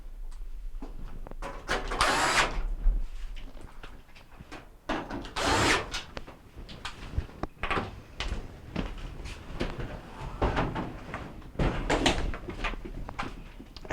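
Screws go back into a Whirlpool dryer being repaired for a no-power fault: several loud, whirring bursts of a driver with clunks and taps of metal panels between them, close by and without talk.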